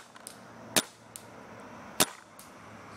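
A Dangerous Power E1 paintball marker fires outdoors, two sharp, loud pops about a second apart with fainter ticks between them over quiet ambience.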